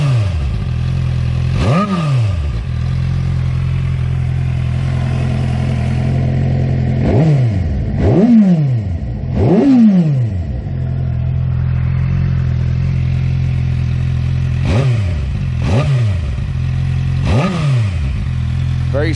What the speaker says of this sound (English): let me go ahead and give it a couple of revs now that it warmed up.